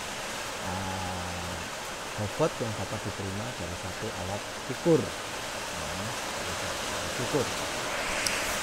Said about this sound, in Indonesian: Mohon maaf ini hujan